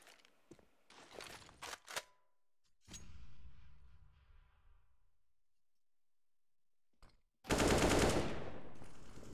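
AK-47 fire in Counter-Strike on the map Overpass during a tournament match: a quick rattling burst of clicky shots, a pause, then a loud sustained roar of rapid automatic fire near the end, with no talking.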